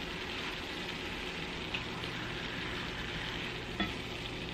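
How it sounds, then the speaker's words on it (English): Cooked chicken pieces go into a pan of French onion sauce and get stirred, giving a steady close sizzle with soft scraping and a couple of light clinks. No one speaks. "now we're going to add in our chicken that we cooked"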